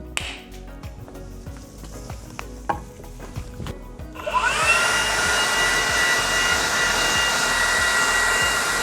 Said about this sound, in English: I'm actually just gonna take it outside and blow it off with a leaf blower first